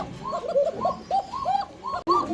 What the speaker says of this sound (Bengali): দুইটাই কিন্তু ডাকে। মাদির ডাক আরো বেশি